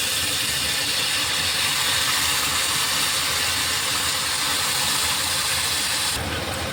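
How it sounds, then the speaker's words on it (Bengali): Rice and lentils frying together in a pan with vegetables, salt and turmeric for bhoger khichuri, giving a steady, dense sizzling hiss that continues without a break for the whole stretch. "এই চালটা ডালটা একসাথে ভেজে নিচ্ছি।"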